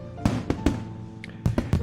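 Fireworks burst in the visual novel game Katawa Shoujo, several sharp pops in two quick clusters of three over soft, sustained background music.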